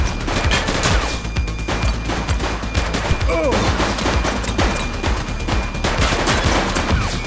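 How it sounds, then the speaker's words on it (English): Rapid bursts of video game gunfire in The Precinct, a police shootout with overlapping shots and automatic fire under a busy score, with a voice shouting briefly amid the loud, dense volleys. "He's shooting!"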